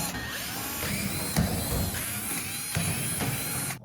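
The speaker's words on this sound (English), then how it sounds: "There's about 10 screws on the back. I'm gonna remove to take this panel off." Screws being backed out of the rear panel of a stackable Whirlpool dryer, a steady mechanical whirring with a few sharp knocks and clicks, close and fairly loud, stopping abruptly at the end.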